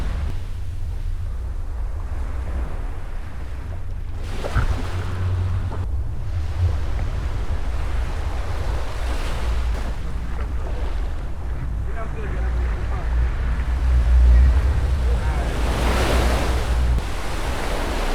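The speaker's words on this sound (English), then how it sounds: "As the waves of the ocean gently and calmly slap against the hull of the boat" Ocean waves slap and wash against a boat hull off Wasini Island, Kenya, under constant low wind rumble and steady engine-like drone, with occasional louder splashes swelling through.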